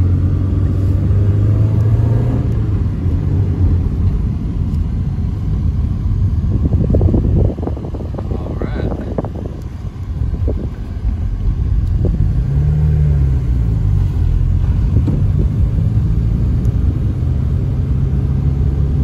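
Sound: 5-speed manual car driving

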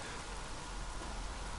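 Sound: rain in the video game Days Gone

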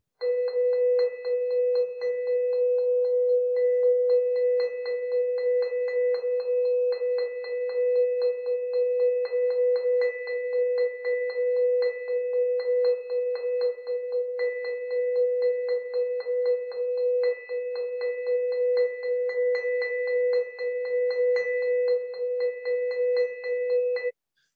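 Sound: vibraphone struck with mallet, notes unpredictably going dead

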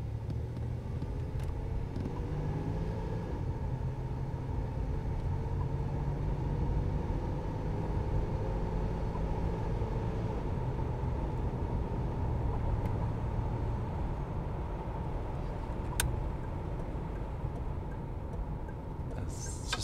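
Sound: 1983 Buick Electra Limited accelerating and driving

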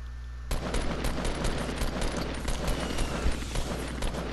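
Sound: gunfire in the video game Fortnite

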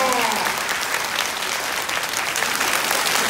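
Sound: audience applause at Taiwan Railway anniversary ceremony

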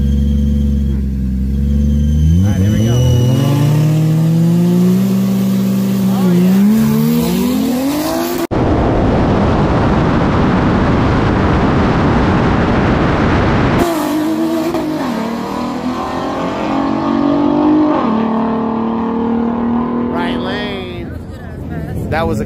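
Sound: cars racing and passing each other

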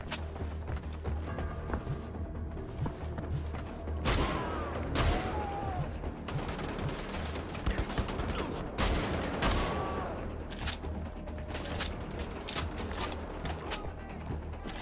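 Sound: gunfire from enemies, Wolfenstein The Old Blood video game

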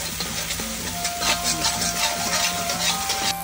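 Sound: stir-frying ribs with chili bean paste (doubanjiang) in a wok

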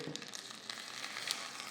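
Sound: cumin sizzling in hot oil tempering

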